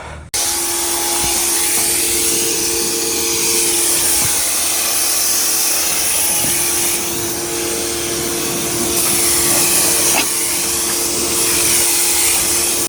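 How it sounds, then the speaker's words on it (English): A 2000 PSI pressure washer sprays the underbody of a car, a loud continuous roaring hiss that starts abruptly and holds steady nearby for the whole stretch. "They do recommend that you use it with a pressure washer of 25 100 PSI or higher."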